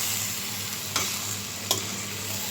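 Kaski fish curry with eggplant and potato sizzles steadily in a pan as it is sautéed, a close, even frying hiss broken by two brief stirring scrapes, with no talk.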